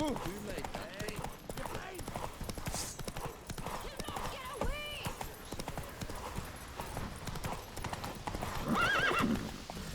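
A horse in The Witcher 3 gallops with quick rhythmic clip-clop hoofbeats, neighing loudly midway and whinnying again near the end, with the rider's voice and game sounds mixed in.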